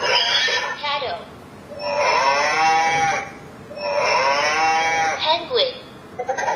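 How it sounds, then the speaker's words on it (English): Recorded cow moos from an electronic talking kids' picture book, two long drawn-out lowing calls separated by a short pause, clear and close, with a brief electronic voice snippet at the end. "cattle,"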